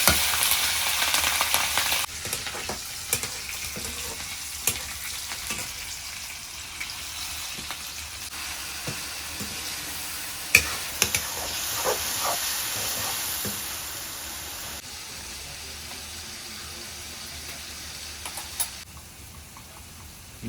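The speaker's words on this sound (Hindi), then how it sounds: "बाबा जी दाल में तड़का लगा रहे हैं।" Hing, cumin and coriander crackle in hot oil while tempering dal at a riverside ashram kitchen on the Narmada bank, a continuous close sizzle with scattered pops and stirring clinks.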